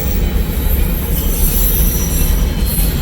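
A freight train of Missouri Pacific cars rolls past close by, a loud steady rumble of wheels on rail with high squealing overtones, continuous throughout.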